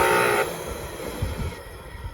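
A Hoover Windtunnel bagless vacuum cleaner with a shut-off fault runs its motor: a loud whining hum at first that abruptly drops away, leaving a lower rumbling drone with uneven thumps.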